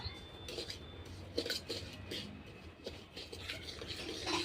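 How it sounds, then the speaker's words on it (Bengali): Sugar being stirred and scraped around a kadai with a utensil, repeated soft metallic rubs and light clinks at close range, no talking. "চিনটা দিয়ে আমি ভালো করে কড়াইয়ের মধ্যে লাগতে থাকবো"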